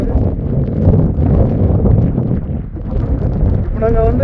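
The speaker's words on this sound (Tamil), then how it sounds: "காற்று அதிகமாக இருக்குது" Strong wind on a mountain trek roars as heavy, constant buffeting across the microphone, loud and unbroken throughout, with a voice talking under it near the end.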